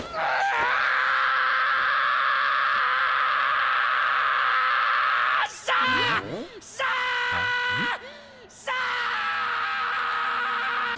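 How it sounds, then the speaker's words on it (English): A Haikyuu anime character lets out long, loud, sustained screams, broken by short gasps and pauses and then resuming at full strength. "that moment when Hinata screamed because he made Kenma enjoy himself"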